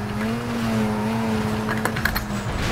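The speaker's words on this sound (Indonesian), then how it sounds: "By the way, suara mesinnya juga masih suara rotary ya, guys ya." Rotary car engine in the Need for Speed Most Wanted video game, a steady buzzing drone holding a constant pitch under racing play, with faint tire noise and a few sharp clicks near the end.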